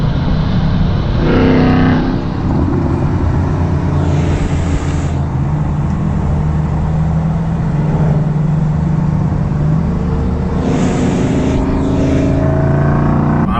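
A loud Mercedes C63 AMG engine roars continuously from inside the car, droning and rising and falling in pitch as it drives, with no talking.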